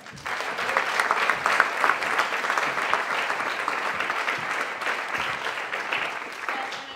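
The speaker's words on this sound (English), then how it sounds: "Let's give another big round of applause for Max." Sustained applause from an audience at a game developers' rant and rave night fills the room, steady and dense for several seconds before tapering slightly.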